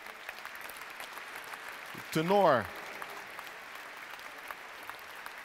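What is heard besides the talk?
concert audience applause for soloists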